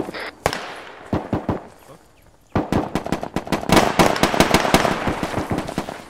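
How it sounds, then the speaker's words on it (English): Rapid video-game gunfire coming from the west near a building on a hillside: scattered single shots at first, then dense overlapping bursts of rifle and automatic fire, fairly loud and echoing. "I'm hearing a bunch of shots from the west of the building"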